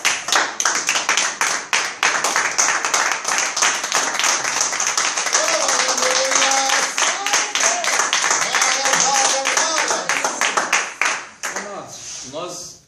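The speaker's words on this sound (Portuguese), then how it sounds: "dá uma salva de palmas para Jesus" A church congregation claps together during a service, dense rapid hand claps filling the space for several seconds, with a voice speaking over them before the applause thins out at the end.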